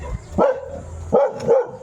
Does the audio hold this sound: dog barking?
yes